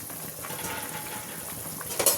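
Water and chopped vegetables, including pumpkin stems and shredded pumpkin leaves, stirred together in a cooking pot, a steady soft watery swishing and sloshing with a brief louder clatter at the end.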